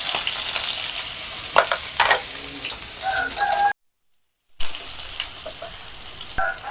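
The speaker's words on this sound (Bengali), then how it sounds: "হাফ সিদ্ধ করা কপিগুলো দিয়ে দিলাম, সাথে আলু, মেথি দিয়ে দিলাম, পেঁয়াজ" Half-boiled cauliflower, potato, fenugreek and onion frying in a pan, with a close, lively sizzle broken by bursts of stirring scrapes and clatters, and a brief full silence near the middle before the frying resumes.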